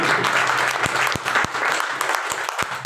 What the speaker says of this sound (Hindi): एक बार जोरदार तालियां होनी चाहिए इस प्रोडक्ट को